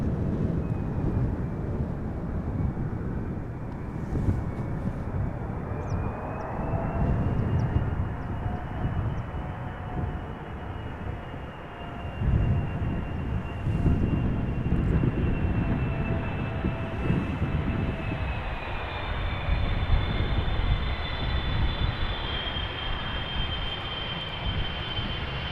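Jet airliners arriving in gusty crosswinds at Amsterdam Schiphol Airport: a steady, loud engine roar and rushing noise fills the whole stretch, swelling and easing as aircraft pass, with no talk.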